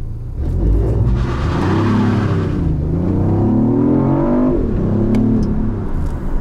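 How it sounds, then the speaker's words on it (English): Petrol engine of a 2019 BMW i8 plug-in hybrid starting up inside the cabin, a loud steady rumble that swells into rising revs with harmonic engine tones, close and continuous with no talk. "The petrol engine was starting there."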